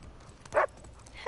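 A single short, mid-distance dog bark in Uncharted 4 rises briefly over a quiet outdoor ambience, followed by a fainter tonal sound near the end.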